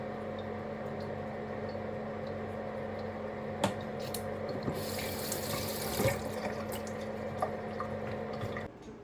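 Tap water running into a sink while fresh coriander is rinsed, a steady close splash and gurgle with occasional squishing and handling knocks, no talk.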